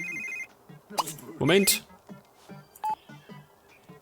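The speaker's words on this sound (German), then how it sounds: "Das geschissene Handy." A mobile phone rings in The Sims 3, a run of electronic dial-tone and ring beeps bursting out at mid-loudness among game sounds, with someone speaking German briefly over it.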